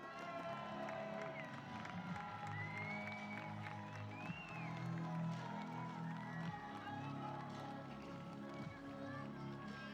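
A stadium crowd at a blind football (cécifoot) match between Italy and France at the 2023 Grand Prix in France cheers and shouts in a steady, far-off roar, with an announcer's voice over the noise.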